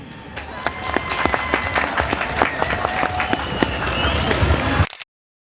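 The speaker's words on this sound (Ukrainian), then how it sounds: "Ваші оплески" An audience at a Malanka folk festival in Chernivtsi applauds honoured guests, a loud, dense burst of many hands clapping that holds steady for about five seconds, then cuts off abruptly.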